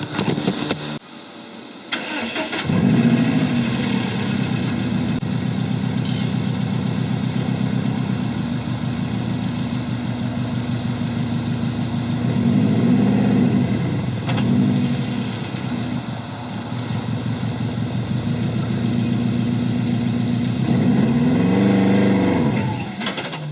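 A junkyard AMC Eagle engine cranks, catches and settles into a loud, steady running drone, with a few swells in revs along the way; no voices.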